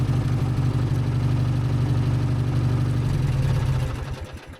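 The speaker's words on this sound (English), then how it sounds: "The old Lowe's mower." An old Lowe's riding mower engine runs steadily and loud at close range with a low, rumbling idle, then its sound begins to fade and drop away near the end.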